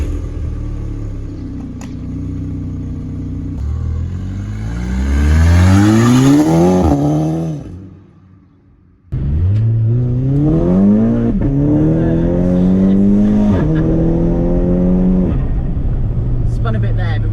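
A stage 2+ VW Golf MK5 GTI Pirelli Edition tuned to 400 bhp pulls hard on the road, its engine note climbing steeply through the revs, dropping away briefly, then surging again loud and close.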